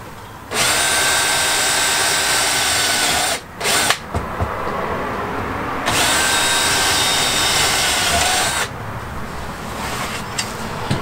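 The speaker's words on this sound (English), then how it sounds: "So I've pilot drilled the hinge, which gives me a chance to get about three done on each side." A power drill drives screws into a wooden door hinge on a DIY off-road overland camping trailer, in two long steady whirring bursts of about three seconds each with short pauses between them.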